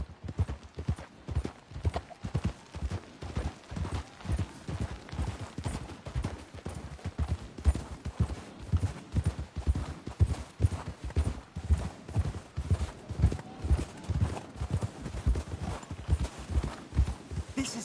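In a video game played on PS4, horses' hooves clip-clop in a steady, rhythmic walking pattern for the whole stretch, close and fairly loud, with no voices over them.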